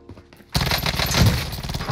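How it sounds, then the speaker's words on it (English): Gunfire in the shooter Warzone bursts in abruptly as a loud, dense, rapid volley of automatic shots that keeps rattling after near-silence. "Receiving hostile fire"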